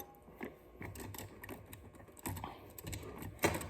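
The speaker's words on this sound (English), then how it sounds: "You're going to take another Allen wrench, and this is an SCS, so right in there, all you're going to want to do is loosen this bolt." An Allen wrench loosens a bolt on an SCS scooter clamp, making a close series of small metallic clicks, taps and scrapes in an uneven rhythm.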